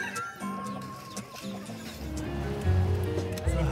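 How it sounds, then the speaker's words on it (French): A hen clucks in short bursts inside a car, under a steady engine rumble and road noise, fairly close but partly masked by the low drone. "On prend une petite poule dans la voiture, histoire de faire couleur locale"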